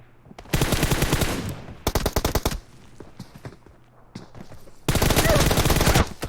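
Rapid automatic gunfire in PUBG Mobile, three loud sustained bursts of closely spaced shots separated by quieter gaps with scattered lighter shots and footsteps, close and dominant, with no talking over it.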